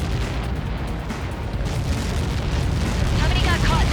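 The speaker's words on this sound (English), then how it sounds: "How many got caught in that explosion?" A massive Helios projectile impact in Ace Combat 7, Mission 19 Lighthouse, unleashes a sustained, deep, roaring explosion that rumbles continuously and swells slightly louder toward the end.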